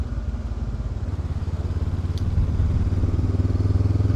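An Africa 500 motorcycle engine thrums steadily while riding a short country route, a close rhythmic low pulsing with wind rush that swells slightly midway.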